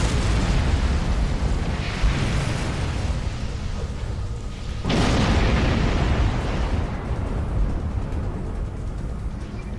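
A torpedo detonates during a starship battle in Star Trek Online, a broad rumbling blast that surges in around the midpoint and rolls on loudly over steady background combat noise.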